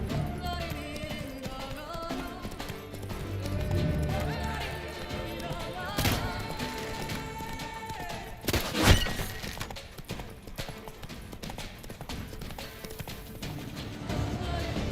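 The horse Roach gallops through Toussaint in The Witcher 3: Blood and Wine, a steady rhythmic clatter of hooves with game music behind, a few sharp impacts midway, and no voices.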